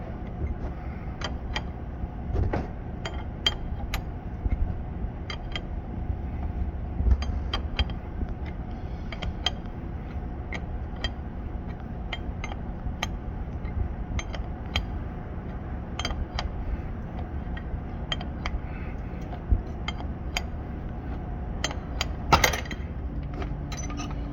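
AN fitting being screwed onto a hose by hand, small repeated metallic clicks and ticks spread over a faint steady background hum, close and quiet.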